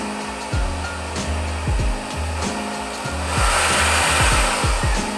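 A Dreame Z30 cordless vacuum cleaner runs up close with a loud whirring motor as it is pushed back and forth over breadcrumbs, giving rhythmic scraping strokes. The pitch rises and gets airier toward the end.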